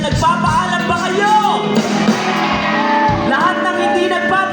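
Audience at an outdoor concert in BGC's amphitheater shouting together when prompted, a loud burst of mixed yells and whoops that swells then eases, close and crowded.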